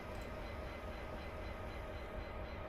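A train rolls steadily along the Settle to Carlisle line near Appleby in a simulator, a continuous rumbling drone with faint rail clatter, heard alone at moderate distance.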